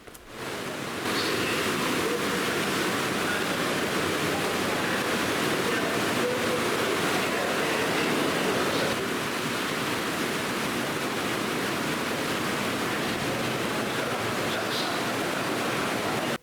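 A waterfall about 1.3 m high drives a huge Sagebien water wheel with 70 paddles on the Ourcq canal, heard as a steady, dense rush of falling water, broad and continuous from start to finish.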